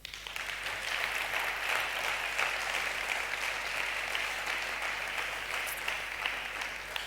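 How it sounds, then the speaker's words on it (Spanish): A church congregation applauds for the King, steady dense clapping that fills the hall evenly for several seconds without talk. "Ah, un aplauso al Rey."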